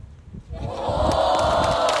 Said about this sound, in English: Crowd seems to be pretty pleased, finds that higher tier of the green